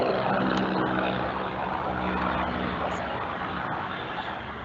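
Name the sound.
helicopter passing overhead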